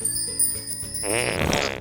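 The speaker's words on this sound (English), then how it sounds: "A farting unicorn appeared" A cartoonish fart sound effect in a children's storytime unicorn segment: a bubbly, wobbling blast that follows a few seconds of bright tinkling chimes, loud and alone with no talking.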